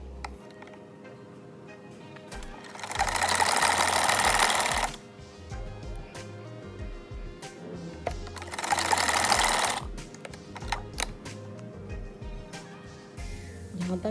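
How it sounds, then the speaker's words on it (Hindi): A sewing machine stitches a strip onto a kurta in two steady whirring runs of about two seconds each, close up, with quiet handling noises between them. "अब मैं इसको सिलाई लगा दूँगी।"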